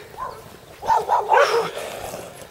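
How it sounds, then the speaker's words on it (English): Farm dogs bark on a countryside walk in North Yorkshire, a short burst of a few close, sharp barks and yips lasting about a second before fading. "The farm dogs."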